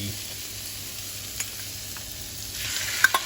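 Pork tenderloin cubes and bacon slices, marinated in soy sauce, sizzle steadily in a pan as a soft, even frying hiss, with a brighter crackle and a few sharp pops building near the end.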